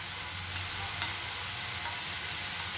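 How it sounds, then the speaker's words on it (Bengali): Garlic paste frying in a pan gives a steady, dense sizzle, moderately loud and close, with a couple of faint utensil taps; no voices. "আদা রসুনটা একটু ভাজা ভাজা হয়ে এলে"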